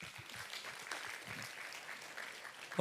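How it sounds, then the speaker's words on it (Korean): Faint, steady applause rises from a church congregation at a Friday night prayer service, soft and somewhat distant throughout, with a louder sound arriving right at the end. "우리 한 번 더 서로 박수 한번 하시겠습니다."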